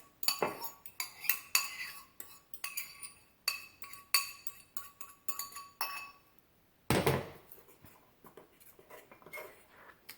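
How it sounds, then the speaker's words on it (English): A spoon clinks rapidly against the inside of a mug while stirring vegan brownie batter, a quick irregular run of bright metallic taps, then a short pause and a scrape before more clinking resumes. "And mix it up in your cup."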